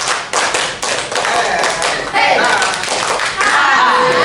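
A group of adults claps in counted rhythmic patterns at a school training session, sharp loud hand claps in bursts and sequences, with voices calling out the counts over them.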